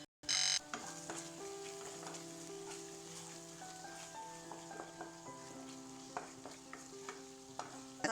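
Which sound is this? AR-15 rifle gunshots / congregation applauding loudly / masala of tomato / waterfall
masala of tomato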